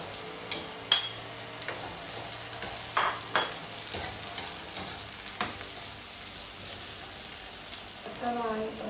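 Onions, added after ginger, sautéing in a pan for a tilapia tinola soup. A steady sizzle and frying hiss runs throughout, with intermittent clinks and scrapes of stirring, close by, and a brief voice near the end.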